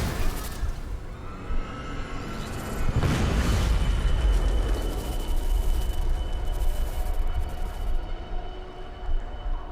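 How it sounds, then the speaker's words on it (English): Explosions in the video game Deus Ex: Mankind Divided, a loud, sustained rumbling blast with a heavy low-end swell peaking early and rolling on for several seconds. "I knew explosions were coming."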